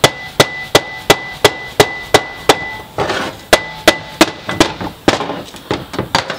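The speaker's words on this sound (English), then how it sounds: "To get the yoke off, just tap it with a hammer." Hammer tapping the yoke off a Subaru R180 differential during a rebuild, a rapid series of sharp metallic knocks, close and loud, about a dozen evenly spaced strikes followed by a looser burst of hits.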